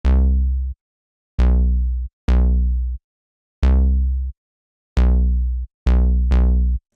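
Repro's Arc Fat B synth bass preset plays seven deep, sustained notes following root notes, each with a sharp attack and abrupt release, the last ones coming quickly in succession, loud and alone.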